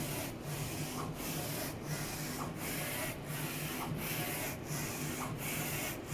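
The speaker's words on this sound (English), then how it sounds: "Then the machine starts to print white ink on the bottom, and then color on the top" A Focus Alpha-Jet A2 UV printer laying down a white ink underbase, its print carriage making regular sweeping rubbing passes about every 0.7 seconds, steady and fairly quiet.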